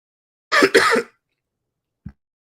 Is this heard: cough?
yes